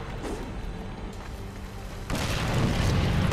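A bomb goes off in the Darksiders 2 video game: a sudden heavy boom that swells into a loud, sustained rumbling roar partway through, with steady game ambience before it.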